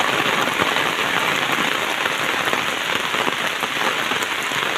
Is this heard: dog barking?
no